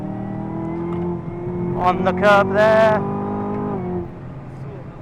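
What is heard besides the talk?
Chevy Camaro engine under power while drifting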